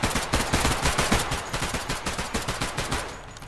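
Rapid automatic gunfire rattles out in dense, loud bursts during a police bodycam shootout in the video game Unrecord in Garry's Mod, with no talk over it.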